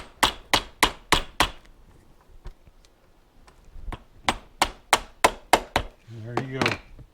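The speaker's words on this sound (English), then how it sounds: "give a little whack with the plastic hammer" A plastic hammer taps a Yamaha AT-1 foot rest part in two bursts of sharp, evenly spaced knocks, about five then six strikes, with a short mechanical rattle at the end.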